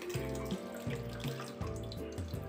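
Liquid from grated vegetables poured into a mixer jar for lentil batter, a close trickling pour with rhythmic gurgling pulses, no voices.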